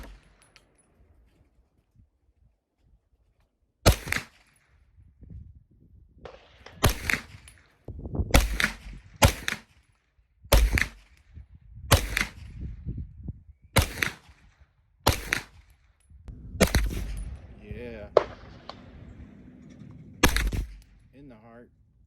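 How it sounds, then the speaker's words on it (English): M&P Response rifle firing about ten sharp, loud shots spaced a second or two apart outdoors, each crack ringing briefly, with faint rustling between shots. "Check out some shooting here."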